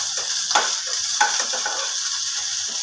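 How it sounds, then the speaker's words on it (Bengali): Shukto vegetables frying with grated ginger and radhuni spice make a close, continuous sizzle, with a few sharp stirring scrapes and clacks over the hiss. "ভালো করে ভেজে নিলাম।"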